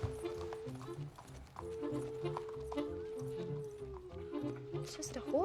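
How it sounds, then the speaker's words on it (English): Rhythmic horse hooves clip-clopping at a steady pace, fairly close, with a sustained tonal hum and some talking over it. "It's just a horse."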